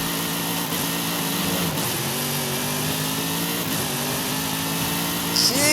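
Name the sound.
C7 Corvette ZR1 engine with race exhaust, video game Forza Horizon 5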